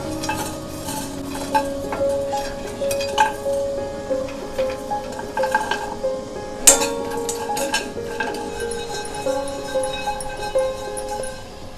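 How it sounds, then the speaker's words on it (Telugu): Whole spices such as coriander seeds, cloves and cinnamon being dry-roasted and stirred in a pan, with scraping and clinking of a spoon against the metal, a faint sizzle and occasional sharp taps, close and without talk. "ఇవన్నీ వేయించి మసాలా తయారు చేసుకుందాం"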